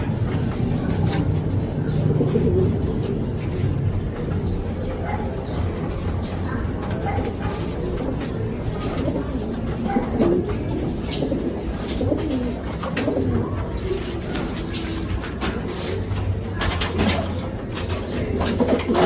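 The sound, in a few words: stock pigeons cooing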